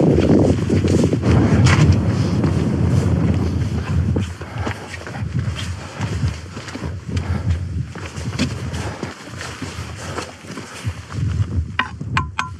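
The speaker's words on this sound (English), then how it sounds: "It's quite windy out here because it's so open." Gusting wind buffets the microphone on the open, exposed slopes of Pike o' Blisco in snow and cloud, swelling loud and rumbling before easing into lighter rustling bursts with footsteps underneath.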